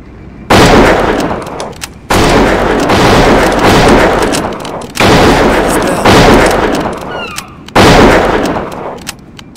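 Heavy gunfire from the video game Deadly Dozen Reloaded, with four long sustained bursts of rapid shots, loud and close, separated by short pauses.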